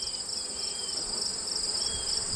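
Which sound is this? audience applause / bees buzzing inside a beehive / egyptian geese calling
bees buzzing inside a beehive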